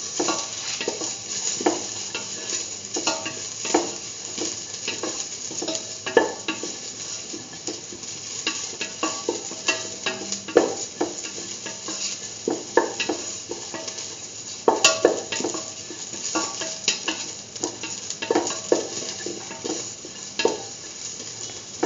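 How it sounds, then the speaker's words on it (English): Curried lentils being sautéed in a pan, with a constant crackling sizzle and frequent metallic scrapes and clinks of a utensil against the pan, close and busy throughout. "Thoroughly sauteing."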